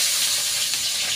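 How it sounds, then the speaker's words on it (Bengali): Potatoes hit leftover fish-frying oil in a pan, a brief, loud, continuous sizzling hiss with no talk. "অল্প একটুখানি তেল আছে, তো ওই তেলে আলুগুলো দিয়ে দেবো প্রথমে।"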